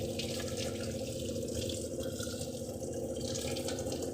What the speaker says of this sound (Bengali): তালটা প্রথমে ভালো করে আমি ধুয়ে নেব।